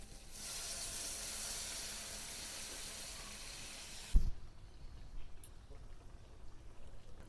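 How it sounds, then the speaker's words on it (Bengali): Water is poured into a hot pan of fried spices and potatoes for a spicy pomfret fish curry, setting off a loud, steady hiss and sizzle that stops abruptly with a thump, leaving quieter bubbling. "এবার জল দিয়ে দেবো।"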